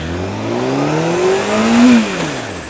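Honda CBR600F motorcycle pulling hard through the gears, a loud rising engine whine that climbs, drops at a shift and climbs again over a few seconds, close up with no talk.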